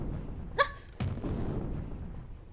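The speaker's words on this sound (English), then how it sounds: "Each step I took was scored by the bombast of deafening cannon fire." Deafening cannon fire in the video game Hakuoki: Edo Blossoms, a sharp crackling report followed about half a second later by a heavy boom that rumbles and fades over the following seconds.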